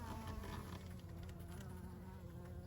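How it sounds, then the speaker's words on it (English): Honey bees buzz steadily and close inside a Layens horizontal hive, a continuous dense drone with no talking. "Oh, we got some bees at the top."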